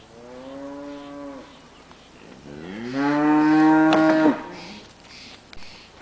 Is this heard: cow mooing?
yes